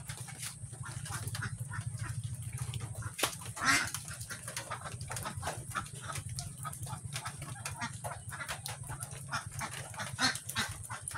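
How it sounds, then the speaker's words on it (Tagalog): Ducks on a farm quack and chatter as they leave their pen, their calls coming close and continuous over a steady background hum. "Palabas muna natin yung mga bibi."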